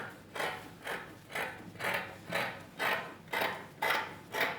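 Scissors snipping through fabric while cutting out a lined pencil dress with a waist dart, a steady run of eight close, crisp cuts at an even rhythm with no talking.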